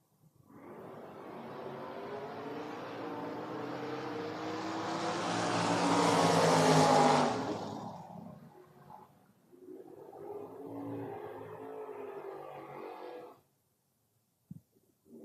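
Drag racing cars at the FRBR Door Wars event launch off the line, with Terry Sachs in a Camaro racing Travis Hill: a loud, rising engine roar peaks and fades away, followed by a softer second wave of engine noise and a brief knock.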